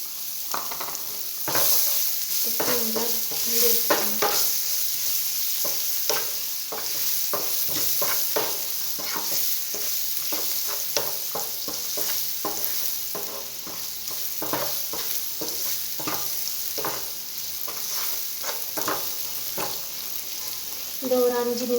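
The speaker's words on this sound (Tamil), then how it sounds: "பச்சை மிளகாலாம் மாறுற வரைக்கும் லோ ஃப்ளேமில் வச்சு இந்த மாதிரி கிண்டி எடுத்துக்கோங்க" Green chillies fry on low flame in a pan for a nellikkai pickle, a continuous close sizzle with rhythmic spatula stirring scrapes and frequent crackling pops across the whole stretch.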